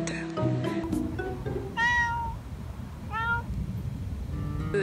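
A cat crying outdoors near a company building, two drawn-out plaintive meows, clear and fairly close, over a steady background hiss.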